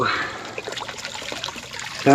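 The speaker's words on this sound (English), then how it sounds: "fountain is filling up." Cold, clean well water from a backyard well trickles steadily into a filling fountain, a close, continuous splashing dribble that swells briefly at the end.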